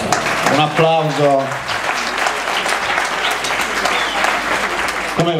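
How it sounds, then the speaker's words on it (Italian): Audience applause at a Zelig comedy show in Italy, a dense sustained wash of clapping filling the room, with a host's voice briefly heard at the start and again at the end. "Un bel applauso, grazie. Un applauso."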